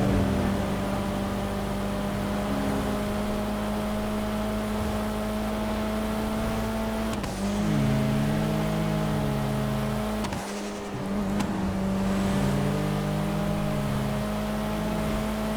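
A car engine in GTA V hums steadily while driving through the city, its pitch rising and falling with throttle changes, and a faint whirring layer runs underneath throughout.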